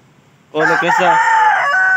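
A single rooster offered for sale lets out one loud, close crow after a brief quiet start, the harmonic call holding strong for over a second.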